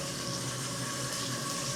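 Water runs steadily from a hotel shower, a constant, loud hiss with no pauses and no voices.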